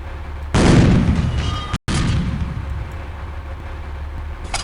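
A tank main gun fires in Panzer Elite, a loud heavy boom with a long rumbling decay, cut off briefly, followed by a low steady engine drone and a sharp click at the end.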